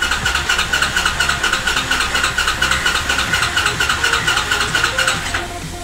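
A motorbike engine runs at a steady idle, close and fairly loud, with a fast, even pulsing throb throughout before it drops slightly in level at the very end.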